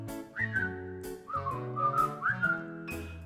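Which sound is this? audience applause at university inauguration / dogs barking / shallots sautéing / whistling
whistling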